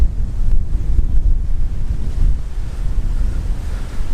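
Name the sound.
wind across an exposed campsite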